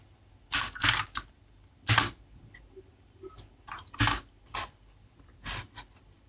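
Keys clatter on a computer keyboard in short, uneven bursts of close, crisp clicks with brief pauses between, heard alone in a quiet room.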